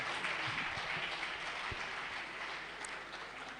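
Audience applause at an agricultural research annual review and planning workshop, a steady broadband clapping wash that holds evenly throughout at moderate level, with no speech over it.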